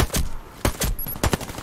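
An AK-103 Kalashnikov rifle fires a rapid string of loud, close single shots, about six cracks in under two seconds at an uneven rhythm, with no talking over them.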